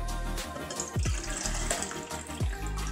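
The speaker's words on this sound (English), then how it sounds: "Addy's gonna put the water into the cup so that we can put the bath bomb in" Water poured from a container into a cup for a bath bomb, splashing and trickling in short uneven bursts at close range, with a few sharp gurgling plops.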